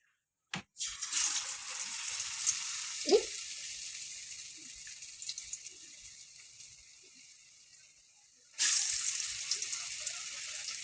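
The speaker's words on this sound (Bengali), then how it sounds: "এবার আমি বেগুনগুলোকে ব্যাটারে ডুবিয়ে তেলে দিয়ে দেবো" Aubergine slices dipped in batter sizzle loudly in hot oil for beguni on a rainy day. The frying starts abruptly, fades slightly with a few soft clinks, then surges back as more slices go in.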